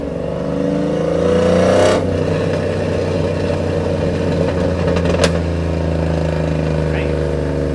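Cammed Chevrolet Silverado 5.3L V8 with longtube headers revs hard and loud and close, its deep droning exhaust rising and holding, with crackles near the end.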